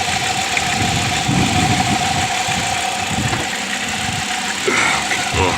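Old Chrysler Town and Country with a V6 engine idling under the hood, a steady low rumble with a constant drone and faint knocking pulses, loud and close, running alone.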